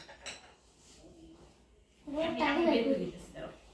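A large plate is handled at home, clinking and scraping against dishes in a short rattle near the end, while people talk throughout.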